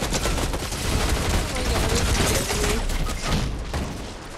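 Gunfire in a video game, rapid bursts of shots crackling densely and loudly across the whole stretch, with a voice talking faintly underneath.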